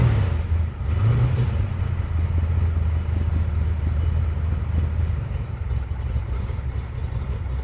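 A classic car's engine runs steadily up close, a deep low rumble with a brief rise in revs near the start, then settling into an even idle-like drone with no talking.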